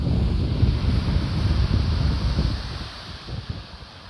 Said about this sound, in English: So here we are down at the beach,